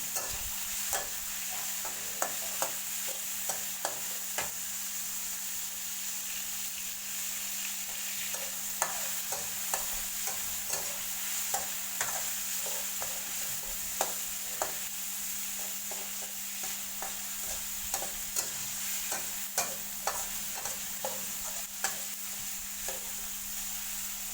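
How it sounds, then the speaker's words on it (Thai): Minced pork with garlic stir-frying in a pan, a steady sizzle broken by frequent scraping and clinking strokes of a spatula over the full length, with no talk. "เอาหมูใส่ไปแล้วด้วย ผัดหมูกระเทียมนะ"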